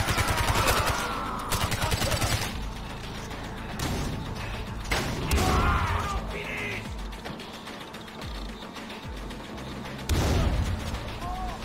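Heavy pump-action shotgun blasts boom repeatedly in Far Cry 4, several loud close shots spaced a second or two apart amid clanking mechanical handling and other gunfire.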